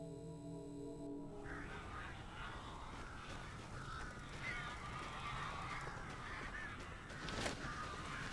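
Crows cawing in the Alan Wake video game, a cluster of harsh calls over a steady low ambient bed, continuing through most of the stretch with a louder burst near the end.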